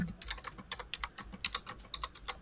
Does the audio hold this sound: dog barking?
no